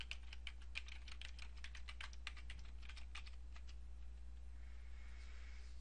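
Typing a web address on a computer keyboard, a quick run of crisp key clicks in uneven bursts for about four seconds, then fading to quiet room hiss, close and alone with no voices.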